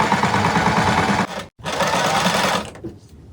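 A sewing machine stitching a sleeve lining, a steady close mechanical whir that stops briefly near the middle, restarts, then fades into a few faint clicks at the end.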